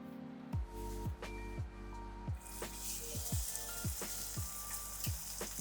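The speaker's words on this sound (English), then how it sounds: "Hot pan. I always start with the skin side down." Skin-on salmon, seasoned and laid skin side down in a hot pan, sizzles and crackles steadily and loudly close up, with a broad frying hiss that swells partway through and soft rhythmic ticks underneath.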